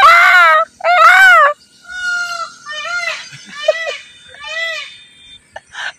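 A peacock perched up in a tree gives loud, nasal, wailing calls: two long cries, then several shorter ones with brief gaps between them.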